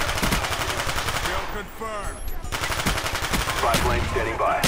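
Rapid automatic gunfire in a hardcore objective first-person shooter match rattles in loud bursts, briefly pausing before resuming, with a voice faintly talking underneath.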